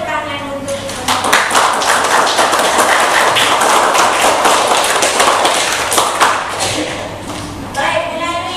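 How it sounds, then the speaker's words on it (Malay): Students in a Malay-language classroom clap for every group, a dense burst of applause running for several seconds with voices speaking over it. "tepuk tangan untuk semua"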